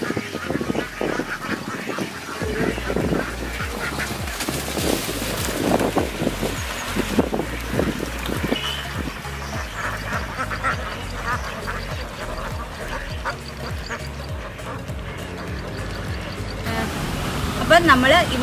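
A crowd of ducks at a Kuttanad duck farm quacks loudly and continuously in dense overlapping bursts, with people talking among the birds.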